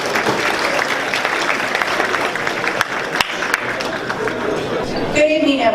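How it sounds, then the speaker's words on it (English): A crowd at an awards and dinner gala claps steadily and loudly throughout, with murmured voices and chatter mixed into the applause. "Please give Cindy a round of applause."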